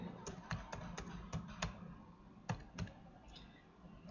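Quick, light clicks of fingers typing on a computer keyboard, with irregular bursts of keystrokes and short pauses between them, fairly close and quiet.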